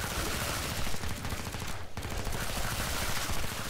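Rapid, continuous SMG fire from the Chris submachine gun in Killing Floor 2, dense and loud throughout with a brief break near the middle.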